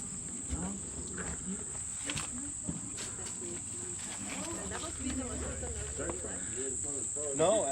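Frogs calling outdoors on a hot day, a steady high insect-like trill with scattered croaks, all fairly faint under people talking nearby.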